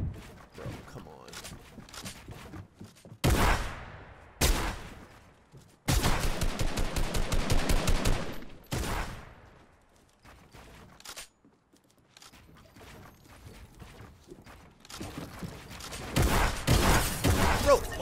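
Gunfire in the Fortnite video game: several separate bursts of loud shots, including one rapid rattling volley, spread across the stretch with quieter gaps and faint game noise between them.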